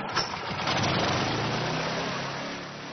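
A small excavator's engine runs steadily in a lotus-root field, its throttle raised slightly for a loud, continuous mid-pitched rumble that stays even, then eases off a touch near the end.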